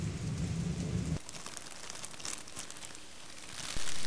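Rain falls steadily, a dense crackling hiss of drops on a surface. A louder low rumble covers the first second, then the hiss continues alone at an even level.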